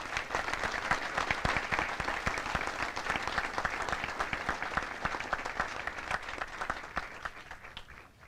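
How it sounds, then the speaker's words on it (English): A large audience applauds awardees at a military advanced camp graduation ceremony, a dense, steady wash of many hands clapping at once that holds strong throughout and tapers slightly at the very end. "please join me in giving our awardees a round of applause"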